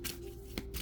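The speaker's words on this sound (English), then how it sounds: "For everybody who think I don't be shuffling these cards" A deck of tarot cards is shuffled close by in a quick riffle, with two crisp bursts of cards snapping together and no voices.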